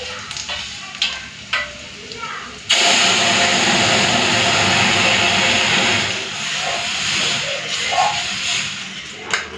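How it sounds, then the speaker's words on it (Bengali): Lentils poured into a hot pan of fried onions and spices burst into a loud, sustained hiss and sizzle that starts abruptly after a few light clinks, then eases slightly while bubbling continues close by. "এরপর ডালটা ঢেলে দেবো।"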